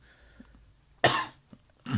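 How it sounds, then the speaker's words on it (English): Two rough coughs, close and loud, one after a second of near quiet and a shorter one just after. "Sorry, I'm coughing loads."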